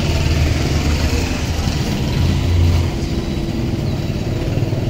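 A motorcycle taxi engine runs on a busy central street in Cobija, Bolivia, a steady broad rumble mixed with street noise, close and loud throughout with no talk.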